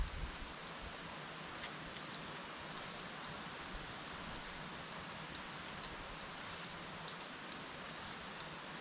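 Sudden rain falls steadily on the surfaces of a chili plantation, a constant soft hiss with scattered drop taps, moderately distant and even throughout.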